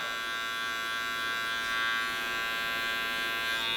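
Electric hair clipper buzzing steadily close up while its blade corners cut hair for a fade, a constant bright whine with no pauses and no talk.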